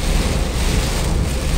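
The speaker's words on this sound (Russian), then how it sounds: "Тропический такой поливает дождь с ветром, с хорошим." A tropical downpour with gusting wind, heard from a car driving north on Interstate 95 near Jacksonville toward Georgia, makes a dense, continuous loud hiss of rain and wind with no pauses or talking.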